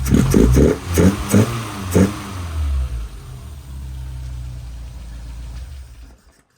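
A Lotus Elan restomod engine runs close by, giving several quick throttle blips before it settles into a steady, low idle that fades out at the end.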